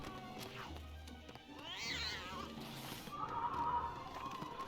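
Cat meowing inside the LEGO Harry Potter Years 1-4 video game, a rising, drawn-out whine midway and a second cry near the end, heard over game background sounds with a voice talking.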